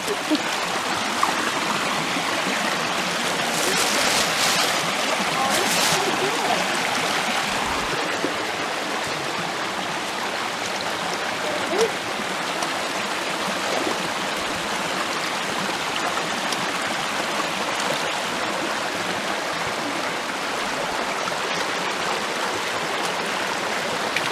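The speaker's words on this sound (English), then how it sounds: "We have come to a water crossing" Steady rush and trickle of a woodland stream at a trail water crossing in autumn wildlands, continuous and close, with brief faint voices over the flowing water.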